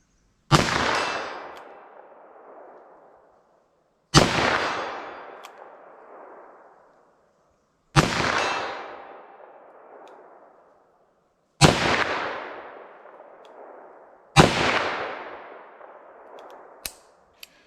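.357 Magnum revolver fired single action: five loud, sharp shots spaced about three to four seconds apart, each with a long decaying echo tail, no talking.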